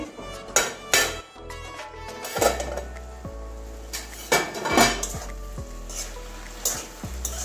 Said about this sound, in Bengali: এবারে আবারও ঢাকনাটা খুলে নিচ্ছি।